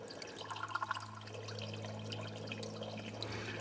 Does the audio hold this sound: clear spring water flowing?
yes